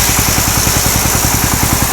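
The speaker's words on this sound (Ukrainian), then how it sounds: "Ну, трактор тарабанить страшно" A tractor engine rattles loudly nearby with a steady, fast mechanical chugging that continues without pause.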